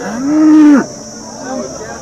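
At a Maharashtra cattle market, a single close cow moo, rising and holding briefly before dropping off, followed by a quieter low trailing call.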